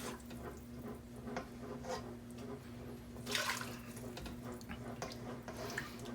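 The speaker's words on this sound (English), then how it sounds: "We're just going to carefully ladle it off." Chinese soup stock is ladled slowly through a fine-mesh strainer, giving soft continuous pouring and trickling with light splashes and drips over a low steady hum, and one brief louder splash near the middle.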